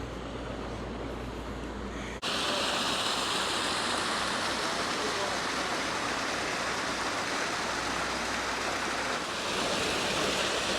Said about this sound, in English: with the ground paddles, the water comes from underneath and comes up